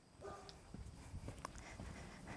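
Siberian Husky puppies give faint, scattered whimpers and high little yips, brief and irregular over a noisy background, fairly distant.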